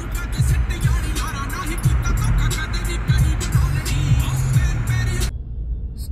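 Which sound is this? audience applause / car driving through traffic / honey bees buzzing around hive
car driving through traffic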